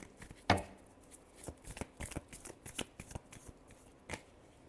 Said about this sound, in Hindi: लास्ट शफल, क्या एरीज के पर्सन एक्शन लेंगे